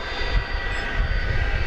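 Jet engines of a 23-year-old Airbus A300 airliner roar steadily and loudly at an airport runway, a continuous broadband rumble with a faint high whine, no voices.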